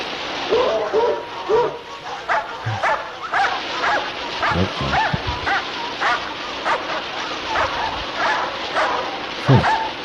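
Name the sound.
dog barking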